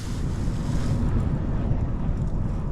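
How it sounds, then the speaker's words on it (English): Strong wind roars steadily across a mountain car park in a Lake District storm, a loud, unbroken rush buffeting the microphone from start to finish. "it is very windy"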